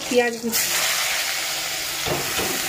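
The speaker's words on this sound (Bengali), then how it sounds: "গোটা এলাচ, গরম মশলা, দারচিনি সব কিছু আছে তেলের মধ্যে দিয়ে দিয়েছি" Whole cardamom, garam masala and cinnamon fry in hot oil, giving a steady broadband sizzle that starts after a short opening sound and holds at an even level to the end.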